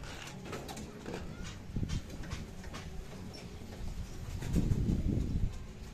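Racing pigeon back from a 372 km derby race from Pilar, Sorsogon, cooing softly in a loft amid low rustling and flutter, with a fuller burst of sound near the end.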